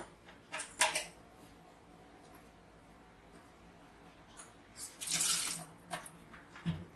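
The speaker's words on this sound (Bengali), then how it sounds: "এখানে রাখলাম, দেখুন জলটা কিন্তু দাঁড়াচ্ছে না, জল কিন্তু একদম পুরো ভাইজারের উপর থেকে বেরিয়ে চলে যাচ্ছে।" Water splashes onto a rain-repellent coated visor in a few short bursts, a brief spray near the start and a longer, louder gush toward the end, with quiet stretches between.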